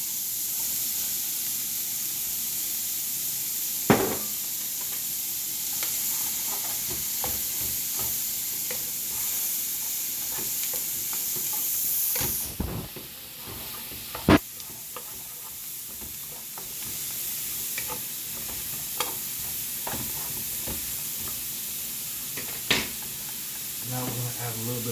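Peppers and mushrooms for chicken cacciatore sizzle steadily in a hot pan for the whole stretch. Intermittent scraping and clacking from stirring cuts through, with a few sharper knocks against the pan.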